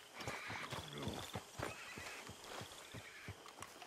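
A horse in Red Dead Redemption 2 whinnies and neighs over the steady clip-clop of its hooves, with repeated sharp hoof strikes running through the whole stretch at close range.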